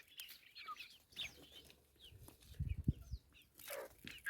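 Roosters and hens cluck and scratch while feeding in an open field, soft and scattered, with a few louder thumps and wing flaps close by.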